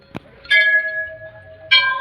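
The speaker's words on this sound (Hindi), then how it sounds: "ये हमारे पुत्र हैं जो घंटियों को बजाते हुए जा रहे हैं।" Bells ring at the Golu Devta temple, a hill shrine hung with countless bells: one short tap, then two clear metallic strikes that each ring out and hum on, close and distinct.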